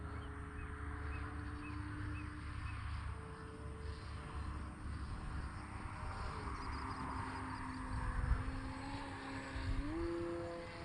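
An E-flite T-28 Trojan electric RC airplane on a 4-cell battery flies at under half throttle in the afternoon, its motor a thin, fairly faint whine that holds steady and then rises in pitch near the end.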